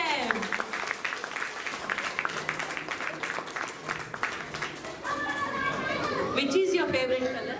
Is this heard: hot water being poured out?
no